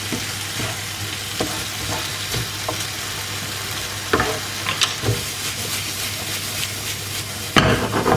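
Vegetables fry hard in a pan over high heat, a steady close sizzle with scattered crackles and a few sharper pops and clatters.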